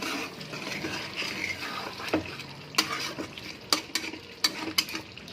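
Chicken with whisked yogurt, kasoori methi and a splash of water being stirred and fried on low heat: a soft steady sizzle with irregular spoon scrapes and clacks against the pan, close by, with no talking.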